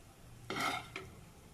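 Rice being stir-fried and tossed in a pan over high flame, a quiet scraping stir in two short bursts, faint and close, with no talking.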